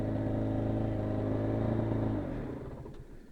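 An Aprilia RS 125 motorcycle engine runs steadily close by with a loud, buzzing rumble, then the revs fall away and it settles toward a lower, rougher idle near the end.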